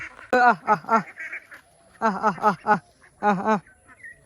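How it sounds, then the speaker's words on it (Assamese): Ducks quacking in bursts of several rapid calls, separated by short pauses, fairly close and loud. "চাবি নেকি হাঁহ দেখাইছোঁ"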